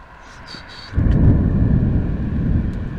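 A deep rolling rumble of storm thunder swells suddenly and stays loud for a couple of seconds, with faint chirping sounds before it.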